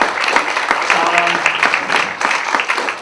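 Audience applause at a US election panel, a broad wash of clapping filling the room for several seconds, with voices mixed in beneath.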